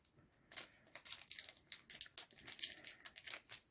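A crinkly foil Pokémon booster card pack wrapper is torn open and handled, producing quiet, dense crackling and crinkling with scattered sharper tearing bursts throughout.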